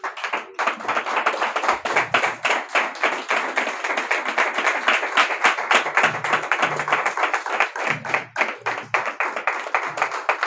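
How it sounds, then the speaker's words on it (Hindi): A church congregation claps together in praise, a dense, continuous stream of rapid, overlapping handclaps that stays loud and even for about ten seconds, with brief low murmurs underneath. "सब प्रभु को महिमा की तालियां देंगे"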